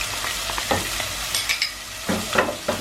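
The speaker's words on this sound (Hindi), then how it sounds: "थोड़ा सा इसको भूनेंगे।" Tomato puree, spices and a chicken stock cube sizzle in a pot for chicken vegetable soup, a close crackling fry broken by several short stirring scrapes, with no talking.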